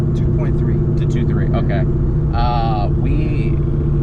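A 2003 Ford Mustang Cobra with a VMP setup on E85, factory manifolds, an H-pipe and a Bassani exhaust rumbles steadily and deeply at idle throughout, with voices talking over it.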